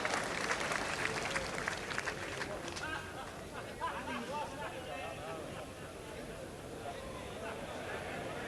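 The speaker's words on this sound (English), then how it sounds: "Applause from the crowd." Crowd applause at a 1983 bowls match in Waterloo, a burst of clapping that fades into murmuring spectators while a commentator talks over it.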